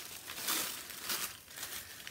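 A neatly wrapped package sealed with tape is unwrapped, its paper crinkling and crumpling in quick close bursts, softly and continuously with brief louder rustles.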